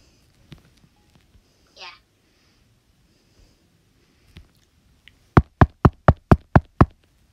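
Seven sharp, evenly spaced knocks on a door in a video game come near the end, loud and close, after a quiet stretch with a few scattered small sounds and a brief squeaky noise.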